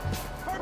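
A dog in Grand Theft Auto V gives a short, quick bark or yip, close and brief, with game sound around it.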